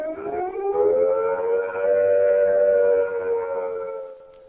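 A UK nuclear attack warning siren, a single long wailing tone that rises, holds and slowly falls, loud and alone.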